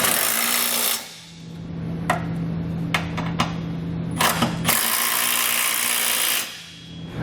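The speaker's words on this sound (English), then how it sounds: "I'm going to come back with a 3/4 inch socket and tighten up all the flange nuts." Socket wrench or ratchet tightening flange nuts with a 3/4 inch socket while installing a Curt trailer hitch receiver on a 2019 Mazda CX-9, heard as a steady whirring run with a few sharp clicks and metallic taps, close and alone.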